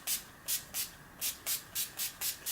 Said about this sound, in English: I'm going to use the NYX Matte Finish Setting Spray.